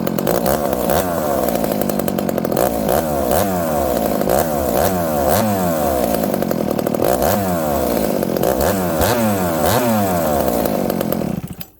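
A Husqvarna 266XP chainsaw fitted with an experimental cylinder revs its throttle repeatedly, a loud close-up engine whose pitch surges up and down in quick rhythmic blips and then cuts off abruptly at the end.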